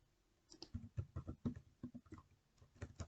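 Typing on a computer keyboard while entering campaign details into a CRM, with quick uneven bursts of soft clicking keystrokes close by and no talking.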